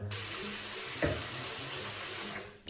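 Rice is rinsed in water in a home kitchen, with a steady running-water wash and a brief splash about a second in, close and moderately quiet.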